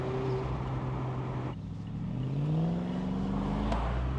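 A V8 Triumph Stag engine pulls hard out of curves, its deep steady drone dipping briefly and then climbing again in pitch as it accelerates, loud and close throughout with no talk.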